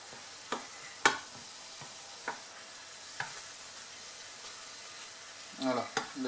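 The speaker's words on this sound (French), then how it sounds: "Et là, j'y vais au vin blanc. Je décolle mes sucres au fond." A pan sizzles softly and steadily while being deglazed with white wine, with occasional scraping clicks of a utensil against the bottom.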